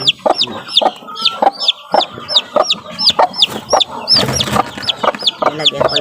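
A mother hen clucks close by in quick, busy bursts while a chick peeps over and over in high rising chirps.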